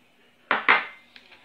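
A whisk stirs a warm gelatin and cream mixture in a pot, giving two sharp metallic clinks against the pot, then a fainter tap and a soft scrape.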